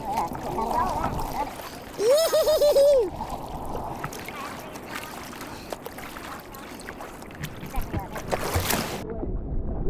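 A small boat is paddled across water at an outdoor summer meetup, with soft splashes and the hiss of water under wind noise. Voices and a brief whooping call rise over it at moments.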